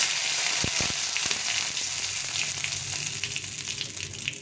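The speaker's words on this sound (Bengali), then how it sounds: "এখন এর মধ্যে শুকনো লঙ্কা আর জিরে ফোড়ন দেবো" Dried red chili, cumin and bay leaves dropped into hot oil for a cauliflower and chhana dalna, giving a loud, dense sizzle and crackle close by that holds steady throughout.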